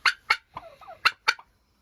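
Farm turkeys gobbling nearby, a quick series of five loud rattling calls in under a second and a half, then quiet.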